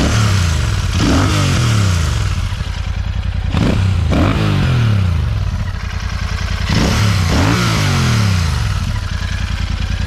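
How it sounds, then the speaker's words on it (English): Royal Enfield Super Meteor 650 twin-cylinder motorcycle fitted with an AEW aftermarket exhaust, revved loudly up close in several sharp blips that rise and drop back to a throbbing idle, with no talking. "the moment you start revving the motorcycle, the twin cylinder exhaust note comes out in its purest form."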